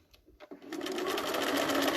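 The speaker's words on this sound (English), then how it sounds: "And then we would continue to sew all of the leaves." A sewing machine stitching leaf appliqué for a quilt starts after a few soft handling noises and then runs in a fast, continuous, close-up stitching rattle.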